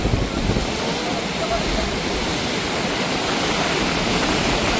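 Floodwater released from Khadakwasla dam rushes past in a dense, continuous roar, loud and unbroken, like a heavy torrent heard from close by.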